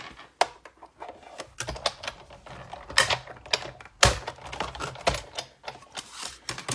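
Paper for a Stampin' Up! Christmas sampler card is cut with a run of sharp, irregular snips and clicks close by, some bursts louder than others, with brief quiet gaps between.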